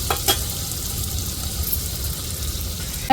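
Tomatoes frying in a hot pan for an onion kuzhambu, a loud continuous sizzle close by with a few stirring clinks near the start and a sharp knock at the very end.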